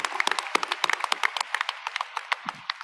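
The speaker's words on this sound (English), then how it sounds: "tonight we should give them a round of applause" A small graduation-ceremony audience gives a round of applause, sparse individual claps scattered irregularly at moderate loudness and thinning out toward the end.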